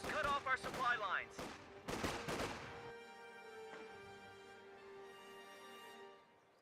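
Automatic MG42 machine-gun fire from a garrisoned building in the World War II strategy game Company of Heroes 2: several loud, close bursts in the first three seconds, followed by a sustained ringing tone and battlefield ambience.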